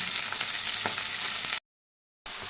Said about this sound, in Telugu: తర్వాత పాలకూర వేసుకుంటున్నాను.